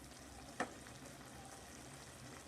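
Bottle gourd curry with milk stirred slowly in a pan on a low flame, a faint steady simmer with one brief scrape of the spoon.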